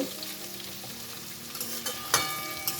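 Soaked sago pearls fry in a non-stick pan, giving a continuous close sizzle with scraping stir sounds and a few sharp utensil clinks near the end.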